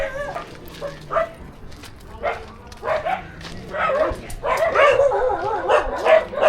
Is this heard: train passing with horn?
no